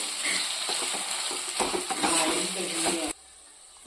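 Sliced onions sizzle in hot oil in a pan for a spicy onion chutney, with scraping stirs over a steady hiss. The sound cuts off sharply near the end.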